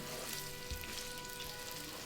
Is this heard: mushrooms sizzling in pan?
yes